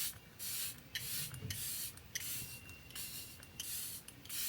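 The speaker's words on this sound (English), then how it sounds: "Have your fan ready and spray your face down, like drench it." L'Oreal Infallible setting spray misted onto a face in repeated bursts of hissing spray, close and soft, with no talking.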